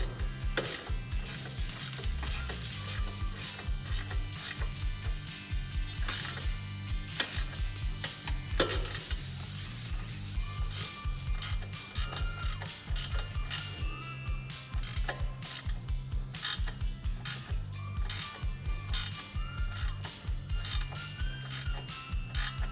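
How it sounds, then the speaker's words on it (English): A ratchet tightens bolts on a SuperATV front bumper fitted to a Polaris RZR Trail S 1000, giving a long, steady run of quiet rhythmic clicking with no talking. "So now we're going to fully tighten these two top bolts."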